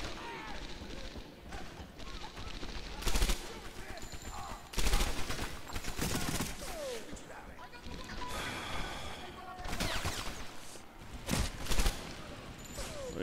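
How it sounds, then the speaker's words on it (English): Distant bursts of rifle and machine-gun fire in the WWII shooter Medal of Honor Airborne, Operation Husky mission, crackling in several loud volleys against a steady battlefield din. "Way off shooting here."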